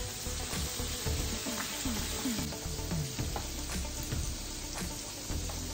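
Pork chop frying in a pan, a steady sizzle and crackle running throughout with scattered clinks and scrapes of a utensil, fairly close and moderately loud, with no talking.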